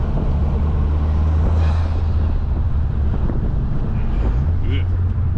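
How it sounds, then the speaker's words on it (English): An 11th gen Honda Civic with a 27WON turbo inlet drones and whooshes steadily while driving, with heavy wind buffeting across the microphone throughout. "the intake sound is louder for a cooler intake"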